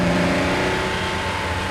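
Engine of a 1974 Porsche 911 Carrera RS revving hard, a loud, steady high-rpm drone heard close up with no voices.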